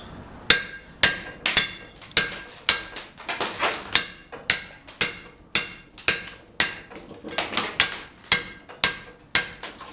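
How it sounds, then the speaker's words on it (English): Sharp hammer blows strike stone during traditional stone carving, a steady series of about twenty crisp, ringing impacts at a regular working rhythm, close and loud, with no talking. "you could just as easily use a more common hammer design like this."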